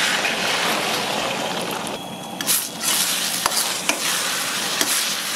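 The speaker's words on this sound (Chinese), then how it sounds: "锅里加油， 鸡蛋下锅。" Eggs frying in hot oil in a wok, a steady broadband sizzle with a few sharp stirring clicks and scrapes partway through, close and fairly loud with no talking.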